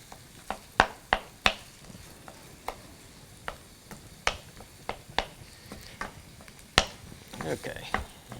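Creole sausage cooks in a pan over medium-high heat, giving a soft sizzle broken by scattered sharp pops and crackles and occasional utensil clicks.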